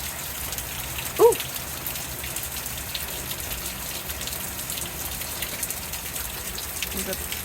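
Early-morning rain during an Alabama thunderstorm falls in a steady diffuse hiss, with a single brief knock near the start and no clear thunder.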